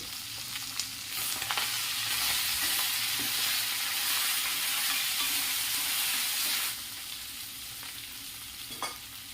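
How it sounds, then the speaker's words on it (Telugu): Chili powder and rock salt fry in hot oil with a loud, close sizzle that swells and holds, then eases to a quieter crackle, with occasional stirring scrapes. "ఆయిల్లోనే కొద్దిసేపు అలా ఫ్రై చేసిన తర్వాత అందులోకి తగినంత కారం ఇంట్లో ఎంత కారం తింటారో అంత కారం అయితే వేస్తున్నాను"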